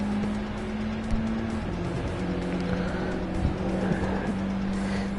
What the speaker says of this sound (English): am driving the Mitsubishi Evo 10 Final Edition around the Brands Hatch Grand Prix circuit